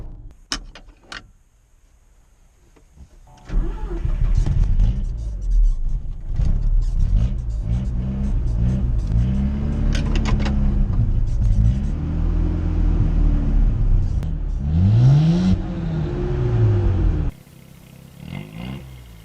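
A rare Mazda Rotary Pickup (Repu) in rough condition starts and revs, its rotary engine droning loud and close with rising and falling pitch sweeps as it pulls away and drives, then cuts to quiet near the end.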